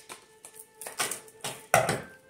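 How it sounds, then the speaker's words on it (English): A deck of cards is shuffled up close in a few quick riffling bursts, each a short papery flutter with brief gaps between, and no voices present. "I'm going to go ahead and shuffle this card deck to get us going."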